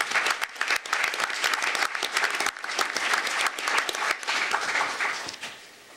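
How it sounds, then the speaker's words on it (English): A round of applause at a school district board meeting honoring a retiring employee: dense, steady clapping from a seated audience across the whole stretch, fairly close, tapering off at the end. "So if we could give her a round of applause."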